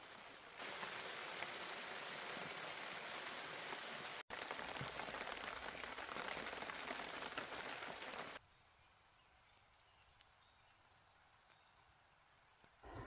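Steady rain falling at a campsite, a dense even hiss for about eight seconds before abruptly dropping to a much lighter, quieter patter.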